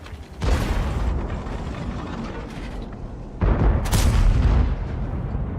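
Two heavy booms from the cannon of the Breenos tank in World of Tanks, each shot a loud blast followed by a rumbling tail, spaced about three seconds apart.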